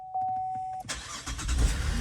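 A car engine cranks and catches quickly after a repair, preceded by a steady electronic chime, then settles into a close, rumbling idle.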